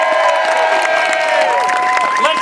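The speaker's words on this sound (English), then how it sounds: "Let's give Cindy a big round of applause." Outdoor crowd at a Save the Whales rally for World Whale Day claps and cheers, a busy wash of applause with shouting voices mixed in.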